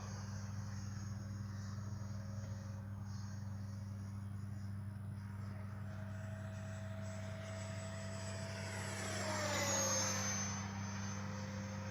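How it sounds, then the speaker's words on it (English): A Freewing 90mm F4 radio-controlled jet with an electric ducted fan on a 6S setup, whining steadily over an airfield and swelling louder as it sweeps overhead, then easing off. "That is one beautiful plane right there."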